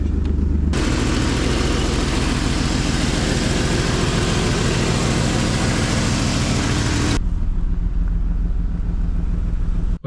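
A Holden VN Commodore engine runs steadily as it warms up, a loud, even drone held close to the microphone throughout, with a brief shift in tone partway through.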